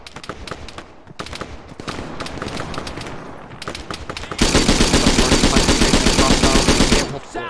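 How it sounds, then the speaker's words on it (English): Machine gun fire in the military shooter Arma 3 rattles in rapid, loud bursts, first as several choppy volleys with short gaps, then as one dense, sustained stream of overlapping automatic fire that cuts off abruptly. "I'm under heavy fire"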